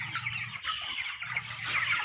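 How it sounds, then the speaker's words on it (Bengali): Chickens on a poultry farm of about a thousand birds, clucking in a steady close chorus with continuous soft calls and no talk. "এখানে মুরগি আছে 1000।"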